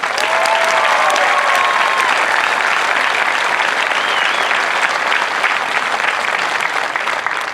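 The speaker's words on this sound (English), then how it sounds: "How about a round of applause?" Loud, sustained crowd applause at an outdoor Air Force Basic Military Training parade in San Antonio, a thick continuous roar of many hands clapping, with a faint whistle early on.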